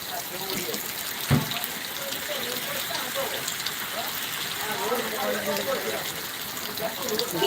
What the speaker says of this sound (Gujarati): વડાની અંદર ધોધમાર વરસાદ વરસી રહ્યો છે